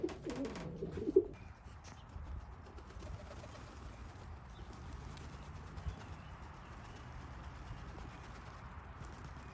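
Racing pigeons coo softly and fairly close after returning home from a 350-mile race, with a brief louder flutter early on over a quiet outdoor background.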